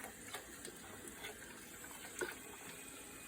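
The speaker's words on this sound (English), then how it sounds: "He likes playing with water." A child splashes and plays with running tap water at a sink, a steady faint gush with small splashy bursts throughout.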